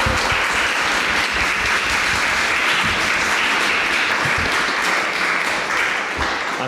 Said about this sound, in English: I would like you to thank our panelists with an applause,